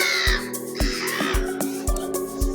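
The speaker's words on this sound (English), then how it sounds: "The bird came back with friends" Crows caw outdoors in a string of five or six harsh, loud calls at an uneven pace, with a steady background hum beneath them.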